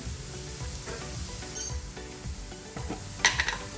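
Grated carrot and vegetables sautéing in a pan give a soft sizzle, broken by a few sharp scrapes and clinks of a spoon stirring against the metal, close up with no talking.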